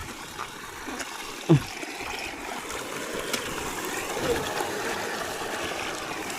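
Flood water after a storm flows steadily across a newly planted rice field, a low continuous rushing trickle heard outdoors with a brief faint knock partway through.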